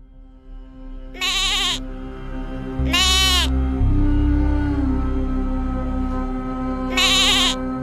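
Goat bleats as a sound effect: three loud, wavering bleats, spaced apart, rising over a steady low drone and a background music bed.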